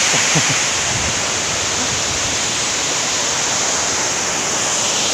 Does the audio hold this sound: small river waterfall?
yes